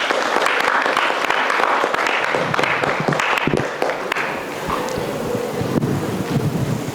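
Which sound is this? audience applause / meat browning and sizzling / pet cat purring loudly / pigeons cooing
audience applause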